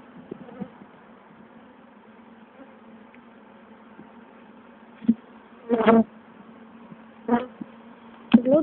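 Honeybees buzzing close around a beehive, a thin steady drone broken by several loud, brief buzzes as individual bees pass right by, with no talking.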